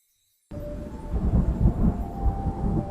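Thunder in the video game Stories: The Path of Destinies rolls in suddenly after silence and rumbles loud and low in a long, uneven wave.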